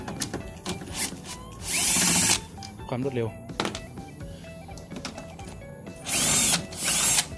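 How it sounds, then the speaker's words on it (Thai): Bursts of an electric drill with a size 10 socket whirring in short pulses while tightening on a vehicle during an LED light swap, loud and close, with someone speaking between and over them. "ทำการขันโดยใช้สว่านไฟฟ้าบล็อกเบอร์สิบมาเลย"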